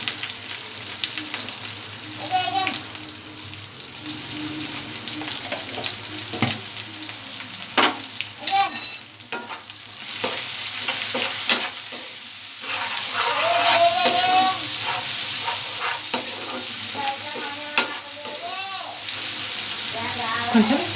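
Rajma masala frying in a pan just after turmeric is added, with a continuous sizzle, occasional stirring scrapes and faint voices in the background.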